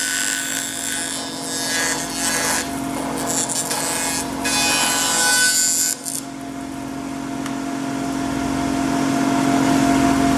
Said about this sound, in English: Try to trim it just a little bit easily as we go along.